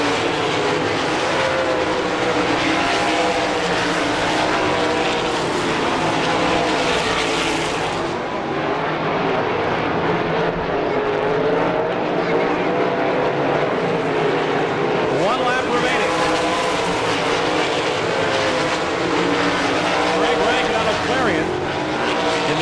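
Sprint cars race around a Pittsburgh, Pennsylvania dirt track during an All Star Circuit of Champions heat race, their engines forming a continuous loud roar that swells and fades as they pass, with an announcer talking over it.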